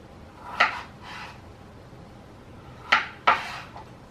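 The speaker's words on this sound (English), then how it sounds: "to use my hand like this to hold the potato and then just do little slices" A kitchen knife slices a raw potato on a cutting board with a few sharp, separate cutting taps spaced through a quiet moment, with no talking.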